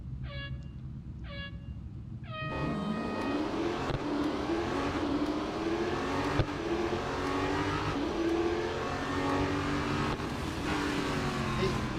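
A race car engine in Real Racing 3, a Porsche on the Porsche test track, revs hard and holds a steady high drone. Short chirpy tones come first, and the engine then climbs and shifts through gears with no break.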